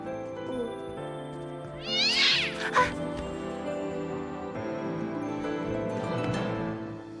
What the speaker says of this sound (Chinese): 是只小猫。